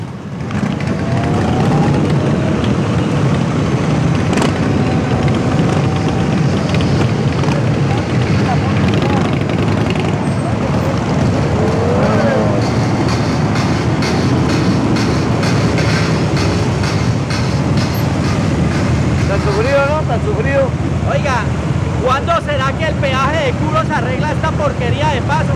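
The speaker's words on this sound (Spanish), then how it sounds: "Yo les voy a dejar el sonido de las motos, les voy a dar el ruido de los motores" Motorcycle engines running, including a police motorcycle, make a loud, continuous rumbling roar throughout with voices talking over the engine noise.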